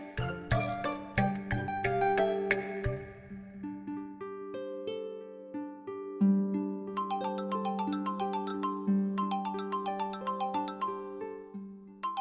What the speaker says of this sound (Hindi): अरे पिंकी जी का फोन